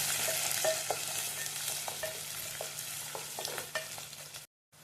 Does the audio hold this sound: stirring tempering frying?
yes